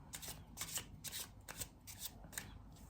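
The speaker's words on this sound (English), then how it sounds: "Let me pull another card to see if I can get further information about this." Tarot cards being shuffled by hand, a close, crisp run of rapid riffling bursts in an uneven rhythm over a few seconds, with no talking.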